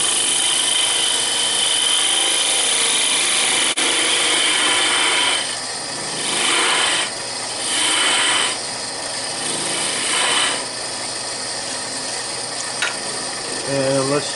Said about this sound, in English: Just rough it out. Change to a half inch thermal gouge.